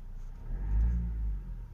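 Engine of a 2019 Tata Harrier revved while idling, a deep low rumble swelling briefly then settling, moderately loud and heard close.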